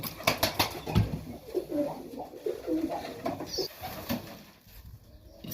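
Junior highflyer pigeons coo in a loft on mite spray day, a cluster of soft, close, overlapping coos with some wing flutter and shuffling, with no talk.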